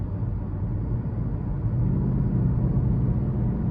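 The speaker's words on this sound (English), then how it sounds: "It's that low idle that sounds rough." A low, rumbling engine idle from a 2015 Chevy Malibu LT runs continuously, rough and droning, growing slightly louder partway through, with a possible loose part. No voices.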